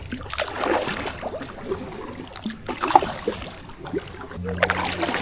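Kayak paddle strokes from an inflatable kayak splashing and churning water at close range, with repeated uneven sloshes and drips and a faint hum near the end.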